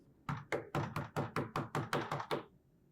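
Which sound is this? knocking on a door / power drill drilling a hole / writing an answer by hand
knocking on a door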